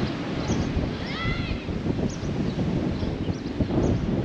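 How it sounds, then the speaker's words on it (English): Steady wind buffets an outdoor microphone under stormy, cloudy skies, a continuous broadband rumble and rush lasting throughout with no pauses, fairly loud and close. "I don't know if you guys can tell how windy it is out here"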